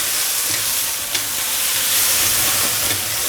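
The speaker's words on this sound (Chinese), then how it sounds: "接下来我们下入来个半杯的米酒，这个锅边给它放进去" Half a cup of rice wine splashed around the edge of a hot wok holding chicken fried with sesame oil, ginger, scallion, garlic and taro, giving a loud, continuous close sizzle and hiss for a few seconds, with no voices.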